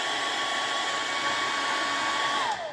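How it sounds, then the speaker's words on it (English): A hair dryer blows with a steady whirring hum and airy rush, close and loud, drying a part to remove lint in a workshop, winding down at the very end. "I use a hairdryer"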